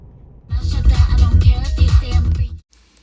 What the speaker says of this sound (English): and then we'll play the music